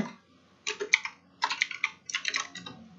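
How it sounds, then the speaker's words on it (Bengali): A computer keyboard being typed on in three short clusters of crisp, close keystrokes separated by brief pauses, entering a search into Google with no speech. "তো আমরা এখানে গুগলে ফন্ট অসম লিখব।"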